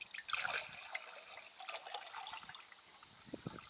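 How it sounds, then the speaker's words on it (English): AdBlue trickles into the tank of a Peugeot car in a thin, close-up dribble, with several small splashy spurts running unevenly and a little louder at the start. "how little AdBlue it took to fill it, even though it said it had run out"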